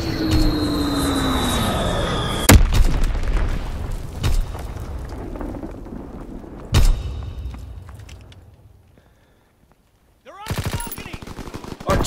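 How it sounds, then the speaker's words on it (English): In the Call of Duty WWII game, artillery fires as several loud, near booms, along with bursts of gunfire over a rumbling battle background that drops to near silence before more shots. "Firing division artillery."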